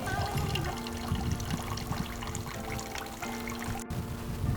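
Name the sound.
clean water flowing out while flushing Audi A4 1.8T coolant system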